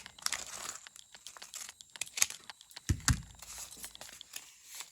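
Close paper crinkling and crisp snipping sounds from fabric scissors cutting paper, irregular cuts and rustles with a couple of soft thumps, no talking.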